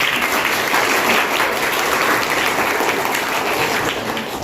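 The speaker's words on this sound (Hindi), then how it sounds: "तो एक बार प्रधानमंत्री राधिका को बनने के लिए सारे लोग ताली बजाएं" Steady applause from a group at a school children's parliament formation, honouring a child elected prime minister; dense, continuous clapping with no speech throughout.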